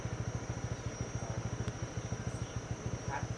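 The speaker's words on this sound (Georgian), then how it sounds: "აგერ ჩემი სკუტერი გადავაჯდე და წავედი" A scooter engine running close by, a fast regular low putter of firing pulses that holds steady throughout, with a faint high whine in the background.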